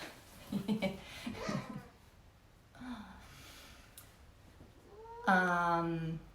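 A house cat gives a clear, loud meow near the end, after quieter talking and household sounds in a room where someone is painting tin projects.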